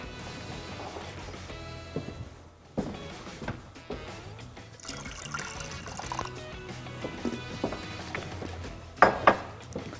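A small splash of water poured into a tomato sauce in a pan, with frying oil spooned over it, for stuffed-eggplant kofta: continuous liquid pouring and sizzling texture, fairly close, ending in a couple of louder sloshes, with no talking.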